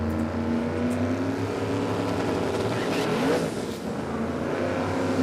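A drag racing car at Warwick Dragway, its boost issue just sorted, roars steadily through a launch with a loud sustained engine drone, while voices talk faintly underneath the racket.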